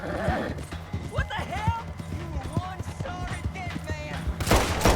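A horse in the Red Dead Online game trots with steady clip-clopping hooves and lets out whinnies, joined by scattered gunshots, while someone talks over it.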